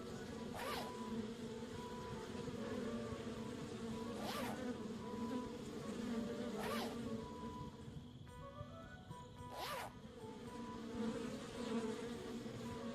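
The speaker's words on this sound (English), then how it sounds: "I'm gonna end up smothered in bees." Bees hum steadily around a hive in a cartoon adventure game, a soft continuous buzzing drone with a few swelling passes that recur every couple of seconds, quiet and without talk.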